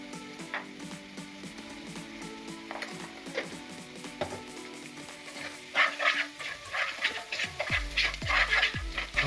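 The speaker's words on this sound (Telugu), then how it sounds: "బాగా కలుపుకొని 5 మినిట్స్ వేగనివ్వండి" Soya chunks curry masala with salt and red chilli powder fries in a pan, a steady close sizzle with scraping stirs that grows louder and more crackly toward the end.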